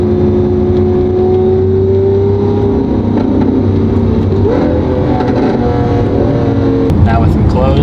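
A Lamborghini Aventador's engine rumbles loud and close with a deep, aggressive exhaust tone through open Valvetronic Designs exhaust valves, rising and falling slightly, while someone talks over it.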